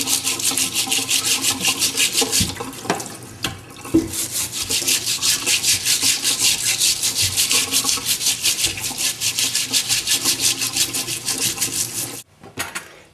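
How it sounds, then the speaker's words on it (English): Horseradish root scrubbed with a stiff bristle brush during washing: steady, rhythmic rasping strokes repeat up close for about twelve seconds, then stop abruptly. "here's a somewhat of a bristle brush on it"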